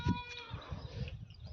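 Goats bleat among farm livestock in a short, quiet burst of a few nearby calls, without any talk.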